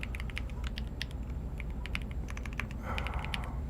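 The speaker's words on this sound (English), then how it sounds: "I'm typing their equation." Quiet keystrokes tap on a computer keyboard during a C++ coding session, irregular clusters of soft clicks at close range over a low steady background hum.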